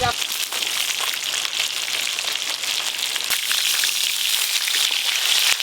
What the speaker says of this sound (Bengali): ভালোই জোরে বৃষ্টি চলে এলো।